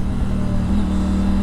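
A 2020 Triumph Tiger 900 with its three-cylinder engine runs close by in a smooth, steady low hum that lifts slightly in pitch partway through, with no talking.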